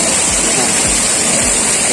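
Artificial waterfall in a replica cave at a Thai temple in Chiang Rai, a steady broadband rush of falling water that stays loud and continuous throughout, with faint low thumps underneath.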